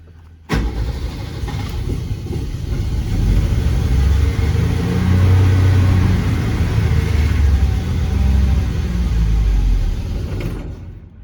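A 1961 Renault Dauphine with a suspected faulty generator cranks and catches, then runs steadily with a low rumbling engine note that swells slightly and holds close and loud for about ten seconds before cutting off.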